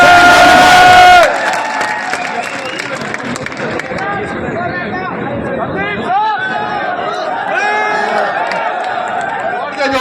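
Large crowd at a Jaipur meetup erupting in loud cheering, shouting and clapping as a speaker is welcomed onstage, a dense continuous roar after a brief amplified announcement at the start.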